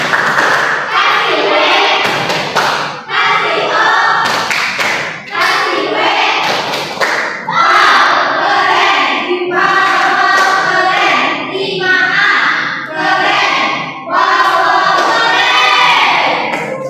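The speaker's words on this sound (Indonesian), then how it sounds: "Tepuk tangan." A primary school class claps hands in an elementary science lesson, uneven thumping claps mixed with children's voices chanting and talking over them.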